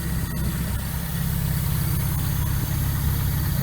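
A ZAZ Slavuta Tavria car idles with a new Bosal exhaust, giving a steady, loud, bass-heavy engine rumble that holds evenly throughout with no talking.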